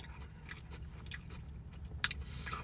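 Crisp crunching bites and chewing of a fried Popeyes pickle chicken sandwich, several close, sharp crackles at irregular intervals over a faint low background hum.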